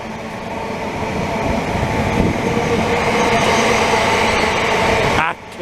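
A Class 745 train, unit 745109, passes fast through Brimsdown with a loud, steady roar and rattle lasting several seconds, then cuts off abruptly as it clears.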